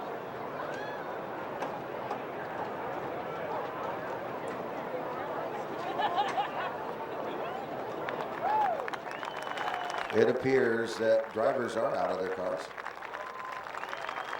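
Grandstand crowd at a USAC/CRA sprint car race in Ventura, California claps and murmurs at a distance while an announcer talks over the PA, the applause swelling in the second half with whistles and cheers.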